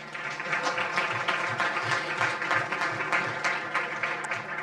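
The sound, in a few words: audience applause for the panel moderator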